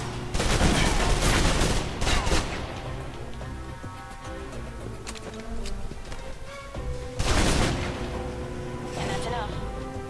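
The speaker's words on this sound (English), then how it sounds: "If you're trapped in close quarters with multiple opponents, the SMGs can help clear the room quickly." Submachine gun fire in the video game Alpha Protocol, close-quarters bursts that come in two loud clusters with quieter game sound and music between, heard under talk.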